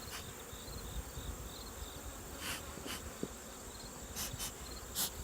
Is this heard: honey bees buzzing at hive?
yes